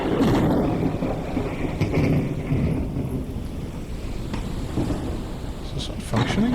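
Storm in Forever Skies, a steady rumbling wash of wind and rain noise with soft swelling thunder-like booms, continuous and fairly loud throughout.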